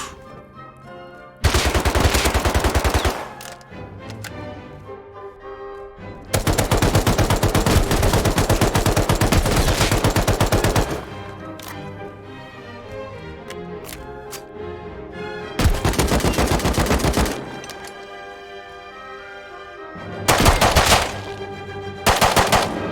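Automatic gunfire rattles in the Rust video game, coming in several loud, dense bursts of rapid shots separated by quieter gaps, with one short burst near the end.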